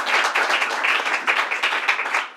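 Crowd applauding a restaurant owner at a New York State governor's announcement event, a dense, steady burst of many hands clapping close by, sustained throughout without any talk.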